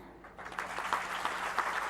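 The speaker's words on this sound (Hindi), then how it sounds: "तालियां तो बनती।" An audience claps together in a hall during a talk on AI and education in Indore, a dense, steady burst of applause lasting the full two seconds with no voice over it.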